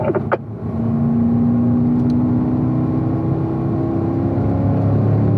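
A Corvette driven on a race track at a racing school, its engine holding a steady, loud, continuous drone with a sustained pitch after a brief higher whine at the start, close and unbroken throughout.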